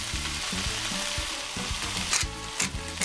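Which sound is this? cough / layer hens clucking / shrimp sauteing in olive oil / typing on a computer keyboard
shrimp sauteing in olive oil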